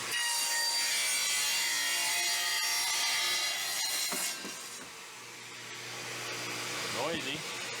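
A power saw slices across a plywood sheet being prepared for beehive covers and pallets, a loud continuous bright whine that holds steady, then drops and eases off as the cut finishes.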